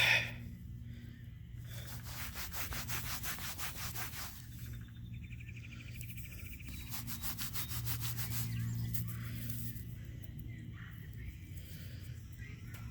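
A 2001 Elizabeth II 50 pence coin found while metal detecting is rubbed clean of dirt, giving close, steady rasping scrubbing strokes in repeated bursts with brief pauses between them.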